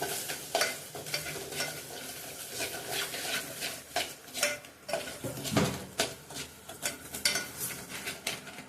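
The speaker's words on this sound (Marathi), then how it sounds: "तेलात कांदे मसाले भाजूया." Onions and sambar masala with coriander and red chilli powder fry in oil while a spoon repeatedly clanks and scrapes the pan, rhythmic knocks over a constant sizzle, close up and with no talking.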